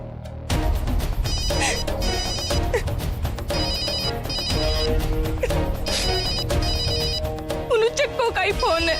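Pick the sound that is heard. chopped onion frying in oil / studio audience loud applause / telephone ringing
telephone ringing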